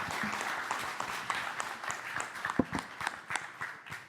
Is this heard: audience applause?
yes